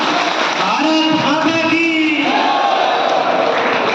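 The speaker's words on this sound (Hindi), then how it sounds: "जोरदार तालियां" Election rally crowd in Haryana roaring and cheering for a candidate, Kaptan Bidanga, a dense, loud, continuous wall of voices with shouts and whoops rising above it throughout.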